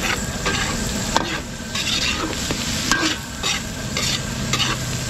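Garlic and onion sautéing in a pan with carrots and potatoes, a steady close sizzle with repeated stirring scrapes and clinks throughout.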